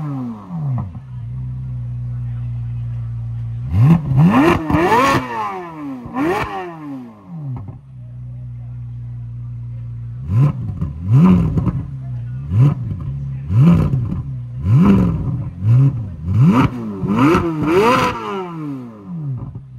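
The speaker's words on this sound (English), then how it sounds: "A Z06 doing a rev." A Chevrolet Corvette Z06 at a Carlisle car show, its engine idling loud and close before repeated sharp revs climb and fall in quick bursts, with an idle pause between two rounds of revving.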